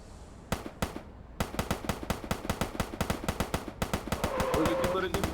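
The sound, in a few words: gunshots from a gun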